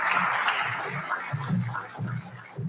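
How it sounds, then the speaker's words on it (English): Conference audience applause for a speaker at a small farmers conference, a soft, moderately distant patter of many hands with low thumps and murmuring underneath. "Let us welcome, with a big round of applause, Dr. Shavonda Jacobs Young."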